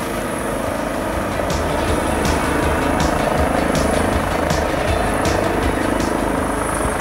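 A sheriff's department helicopter airlifting a horse in a rescue, its rotor thumping steadily and loudly throughout, a continuous heavy drone with no talk.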